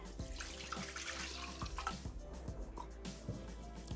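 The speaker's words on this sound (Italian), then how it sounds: "mettiamo l'acqua" Water runs from a tap into a Thermomix bowl, a steady splashing pour close by, with a few small knocks and clinks in the background.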